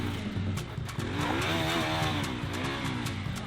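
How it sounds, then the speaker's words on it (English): Bajaj Pulsar NS 200 and RS 200 motorcycle engines roar loudly and close, with rising and falling revs and harmonic whine that swell and shift across the clip, sometimes overlapping, with a tire-squeal edge. "Each engine letting out an aggressive roar, the bike tries to shake off the challenger."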